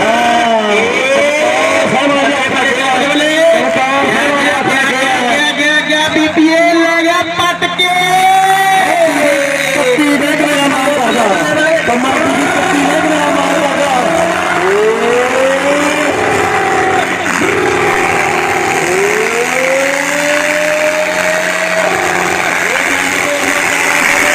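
A modified tractor races in a trolley-pulling competition, its engine revving loud and close with repeated rising and falling pitch sweeps, while voices carry underneath.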